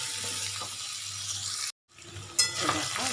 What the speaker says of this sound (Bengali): আর এর মধ্যে আমি আলুগুলোকে ছেড়ে দেবো মশলা মশলা দিয়ে আমি কষিয়ে